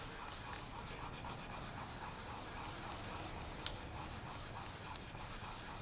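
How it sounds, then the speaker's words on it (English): Steady dry rubbing of a tool burnishing polymer clay vigorously over a stencilled image, a close, continuous scratchy friction with fast back-and-forth strokes and no voices. "Just burnish it vigorously because we want to wipe out any stencil lines that we have."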